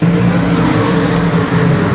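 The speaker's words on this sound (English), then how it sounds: "He will smash the throttle and put his foot through the floorboard" A race car accelerating hard at Boothill Speedway, a loud, steady engine roar that stays close and continuous for two seconds with no letup.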